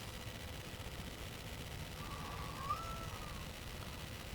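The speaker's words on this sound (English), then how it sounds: "the planet's inhabitants sound like a bunch of cats trying to have sex with everything and its mother" Cat-like yowls from alien planet inhabitants in a video game: one faint, drawn-out wavering cry rises and falls midway through, thin and distant against a steady hiss.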